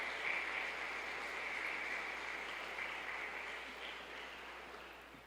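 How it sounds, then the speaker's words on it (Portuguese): Church congregation applauding during a service, a soft, steady wash of distant clapping that holds for several seconds and slowly fades. "Aplauda o nome do Senhor."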